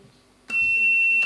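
A quiz-show bell rings to end a primary school quiz match, a sudden loud, steady electronic tone that cuts in after a brief quiet moment and holds to the end.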